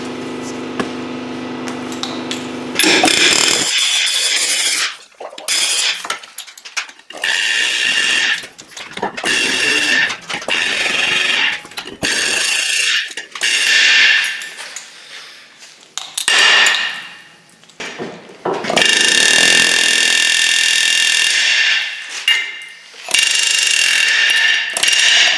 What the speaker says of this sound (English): going around the edge with the old air hammer